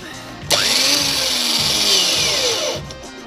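Power drill spinning a stainless steel polishing roller mounted on a bolt turned down from a 12 mm thread to 6 mm, starting abruptly with a loud steady whine that holds for over two seconds before winding down.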